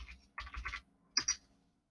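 Several quick bursts of keystrokes on a computer keyboard, soft and close, in two short clusters separated by a brief pause.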